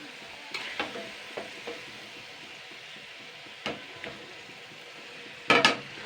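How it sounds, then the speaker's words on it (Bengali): Pieces of fish fat fry in a hot wok with a steady low sizzle, broken by scattered clinks and scrapes of stirring and a louder burst of clattering near the end; no one speaks. "মাছের তেলটা তো গরম কড়াইতে পড়লে এমনি গলে যাবে"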